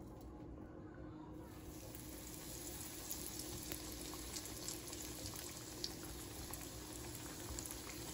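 Eggplant slices fry in hot oil with a constant, even sizzle and bubbling that stays close and steady throughout, with no talking.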